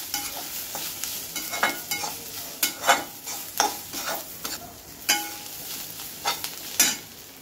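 Desiccated coconut and spices dry-roasting in a pan for prawn masala, with a spatula repeatedly scraping and tossing in a loose rhythm over a light, dry crackle.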